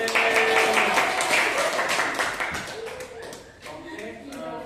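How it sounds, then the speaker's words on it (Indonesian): Classmates in a school classroom break into a round of applause, loud mixed clapping with children's voices over it, thinning out toward the end. "Tepuk tangan lagi teman-teman."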